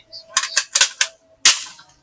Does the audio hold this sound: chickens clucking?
no